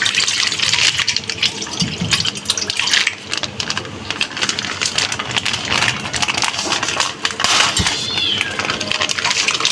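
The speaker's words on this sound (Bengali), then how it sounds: "দুধ দিয়ে দেব।" Milk pours into a bottle gourd curry as it cooks, a steady close gush of liquid with a cat meowing in the background.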